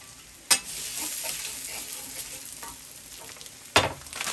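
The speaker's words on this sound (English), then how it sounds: "Stir fry" Teriyaki chicken and pre-cut stir-fry vegetables sizzle steadily on a Steelmade USA flat top grill, punctuated by two sharp metallic spatula scrapes, one early and one near the end, without talk.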